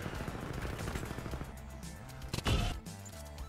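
A sniper rifle in the shooter game Titanfall 2 fires one loud, sharp crack about two-thirds through, cutting across a busy mix of in-game rumble and effects.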